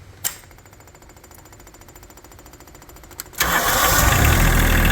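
A Wacker Neuson WN803 mini excavator engine cranks with a rapid rhythmic chug for about three seconds, then catches and roars into a loud, steady diesel run close by.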